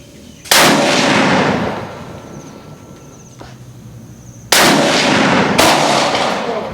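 Ruger Scout rifle fired at an outdoor shooting range, three loud sharp gunshots with long echoing decays, the first alone and the last two about a second apart, with faint crickets between.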